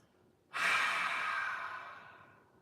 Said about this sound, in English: We'll inhale through the nose and open the mouth, exhale.